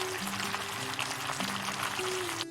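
Bourbon chicken with portobello mushrooms and baby asparagus sizzles steadily in a pan, a faint, even crackle with a soft background hum and no talking.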